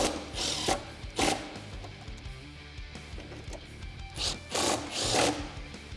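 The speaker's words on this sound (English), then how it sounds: "Then we can grab our 13mm socket and tighten those up." Ratchet wrench with a 13mm socket tightening bolts on running boards being installed on a Jeep Wrangler JL 4-door, giving bursts of fast clicking ratchet strokes with mechanical clatter between, fairly close.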